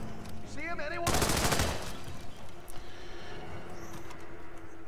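A loud burst of rapid automatic gunfire from the video game Hitman 2, Marrakesh level, erupts close up for under a second amid a busy ambient game soundscape, then gives way to lingering background noise.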